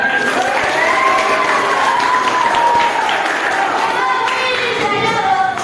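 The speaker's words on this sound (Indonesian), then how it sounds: "Ya, tepuk tangan." A room full of people clapping and cheering together, a steady, loud burst of applause with children's voices mixed in.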